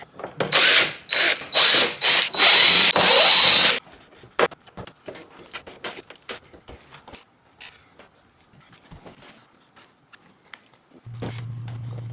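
A power drill whirs in several short, loud bursts while backing Torx screws out of a Mustang headlight, followed by scattered clicks and handling noises and a low hum near the end.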